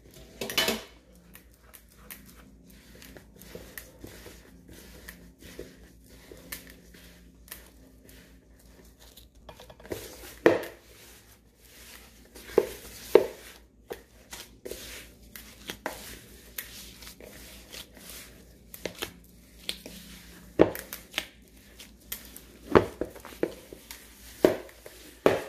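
A utensil mixes Nutella chocolate chip cookie dough in a bowl, with scattered clinks and scrapes against the dish and soft, uneven pauses between strokes.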